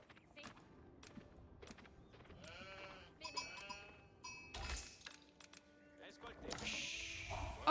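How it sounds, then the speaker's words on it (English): Lots of sheep bleating in a video game, overlapping wavering calls scattered across the scene alongside game sound effects, with a voice talking now and then. "why are so many sheep here?"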